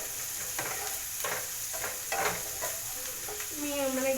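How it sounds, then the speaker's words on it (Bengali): Eggs scrambling for dim bhurji in a pan over a high gas flame: a steady sizzle with repeated scraping stirs of a spatula, no talking. "তো এটা ভালো করে আগে একটু আমি ভেজে নিচ্ছি।"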